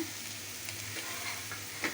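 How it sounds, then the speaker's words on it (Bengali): Ginger and garlic paste frying with browned onions in a pan, a steady close sizzle with soft stirring scrapes now and then, no voices. "তারপরে দিলাম আদা আর রসুন বাটা"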